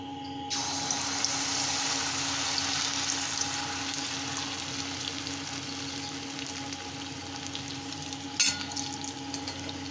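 Malpua batter made from ground Gobindobhog rice sizzles in a small amount of oil in a kadai, a steady close-up hiss and crackle of frying that runs the whole time, with a brief clatter near the end.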